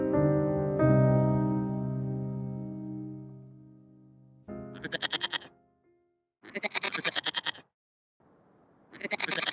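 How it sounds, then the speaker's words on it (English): Goats in an elevator bleat in several loud, wavering bursts separated by short pauses, following a sustained musical tone that fades out at the start. "We got 1 goat too many"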